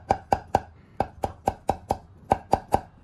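A knife chops scallion and ginger shreds into mince on a cutting board, about eleven sharp, evenly spaced knocks in quick rhythm, close and clear with no talking.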